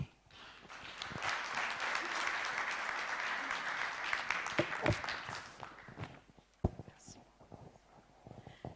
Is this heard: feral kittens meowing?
no